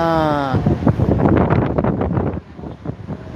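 Outdoor wind in Tbilisi buffets the microphone in a loud, rushing gust that swells and then drops away, with a brief voice at the start.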